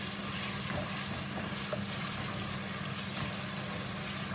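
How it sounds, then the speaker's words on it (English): Goat meat stew frying in a pot gives a steady sizzling hiss with faint scraping from stirring, continuous and close, with no talking. "So we keep stirring it until it's cooked."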